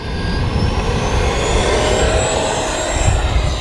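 An RC electric ducted fan F-16 model jet takes off and climbs steeply, its fan giving a loud, steady whooshing roar with a high whine throughout.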